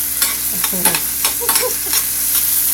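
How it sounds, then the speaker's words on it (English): Onion, scallion, garlic and thyme sauté in a hot pan, a loud close sizzle with quick rhythmic scrapes and clacks of a utensil stirring several times in a short burst, without any talking. "And you just really want to quickly saute those."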